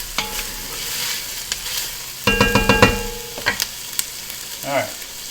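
Onions and celery sizzle in a pan under a steady frying hiss, while a utensil scrapes and clinks against the pan in a quick run of stirring strokes, close and clear.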